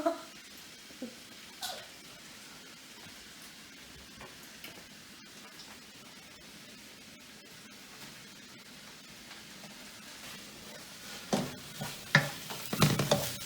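Bok choy, carrots and other vegetables sizzle softly in a stir-fry pan, a faint, even hiss throughout, with louder clattering stirs near the end.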